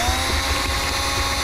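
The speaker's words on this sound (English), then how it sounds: "So I'm just gonna have to drill it out." A power drill bores out screws holding a plastic car console, a continuous high-pitched whine with grinding texture, loud and close throughout, no talk.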